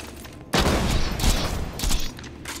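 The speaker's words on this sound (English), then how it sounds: "what you want to do is you want to shoot the Flakker and then swap the weapon" Flakker shotgun firing in Borderlands 2, a loud burst of explosive flak blasts with a sharp onset, dense rumbling booms and a second surge of shots before it trails off.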